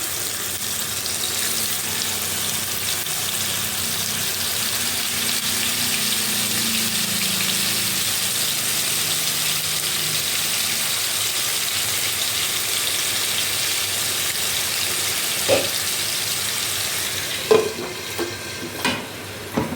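Steady loud sizzling of fish frying in hot oil over a medium flame, continuous throughout, with a few clinks of a utensil near the end.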